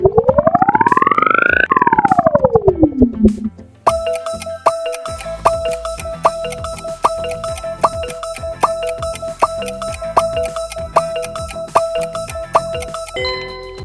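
Pepsi brand logo jingle: a loud rising and falling synthetic sweep, then a bright, rhythmic electronic melody with steady ringing tones and a punchy beat, played alone with no talking.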